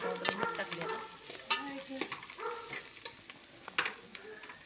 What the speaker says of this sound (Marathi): असं सगळं मिक्स करून छान तेलात परतून घेतलं